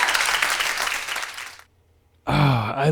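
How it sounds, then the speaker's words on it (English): Audience applause after a live rock cover performance rises loudly and then fades into near silence, followed by a reacting listener's excited gasps and sighs. "claps all around"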